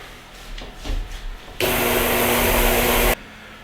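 A mixer runs on almond crescent cookie dough as flour is worked in, a steady loud whir lasting about a second and a half after some quieter rustling.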